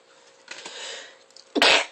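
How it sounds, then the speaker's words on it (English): A single sharp sneeze bursts out near the end, after a brief soft breathy intake, close to the listener. "Excuse me, I sneezed."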